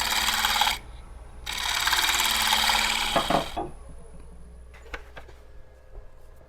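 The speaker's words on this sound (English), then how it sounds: "Little shear scrape out that area again." A shear scrapes out a driftwood burl, bursts of harsh, close rasping grinding, pausing, then resuming, followed by a few lighter knocks and scrapes.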